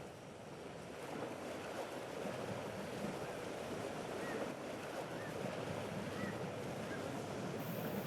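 A boat with engine thrusters rolls over waves in LEGO Fortnite, with a soft, steady wash of surf and wind that swells slightly and then stays even at a quiet level.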